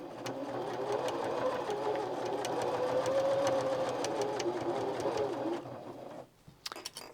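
A sewing machine stitches binding onto a quilt, overlapping earlier stitches, with a steady, close mechanical whir for about five seconds before it stops, leaving a few faint clicks.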